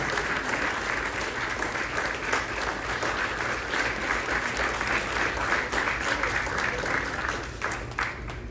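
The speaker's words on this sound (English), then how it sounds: "Let's give them a big round of applause." A hall audience applauds volunteers standing to be recognized, a full and sustained round of clapping that fills the room evenly for several seconds before easing slightly at the end.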